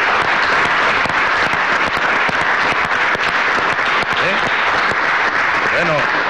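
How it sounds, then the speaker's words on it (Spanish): Sustained applause from a crowd at a Venezuelan political gathering, dense continuous clapping at steady volume throughout, with a few faint shouts or voices poking through near the end. "Vamos a darle un aplauso a esos muchachos, a esos compañeros."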